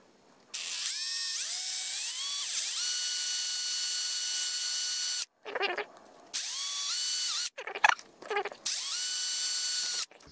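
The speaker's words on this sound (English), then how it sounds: "I'm gonna drill this one right here first and then see how it all lines up." A power drill whirs loudly in several bursts, drilling holes in a Sur Ron Light Bee rear fender extension, spinning up and winding down, with short pauses and brief clicks between runs.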